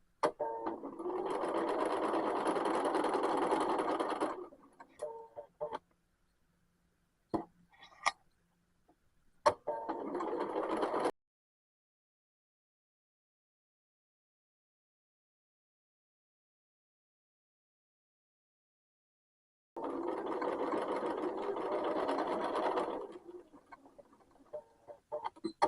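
A sewing machine runs a quarter-inch seam on a shirt in steady stitching bursts, a long run, then a shorter one and a later third run, separated by near silence and faint handling clicks.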